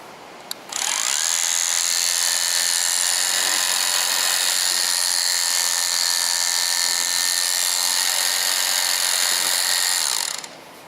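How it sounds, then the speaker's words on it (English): A Kare Pro 200 battery clipper switches on with a click and runs with a steady, high-pitched electric whine while its blade tension is adjusted, then cuts off near the end, loud and close with no talking. "Kare Pro clipper blades tension from the top down. You know when you have the correct tension as the tone of the blade changes."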